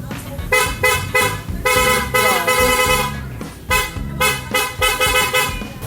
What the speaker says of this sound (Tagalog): Yan, try natin boss yung ano, yung stock horn.